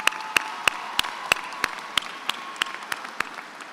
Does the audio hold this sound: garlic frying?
no